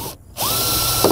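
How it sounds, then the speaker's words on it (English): Power screw gun with a Phillips bit driving a machine screw into sheet metal while fitting a bug shield deflector on a 2020 Jeep, a brief close whirring with a rising pitch, then steady grinding. "we're just going to use our Phillips bit here on our gun to just run it right up into the sheet metal"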